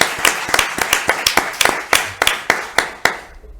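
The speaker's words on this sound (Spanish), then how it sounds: "Un aplauso, yo creo que para Jesús" Audience at a book presentation for the horror title "Terrores propios y ajenos" claps in a brief, fairly close burst of sharp, uneven hand claps that thin out and stop after about three seconds.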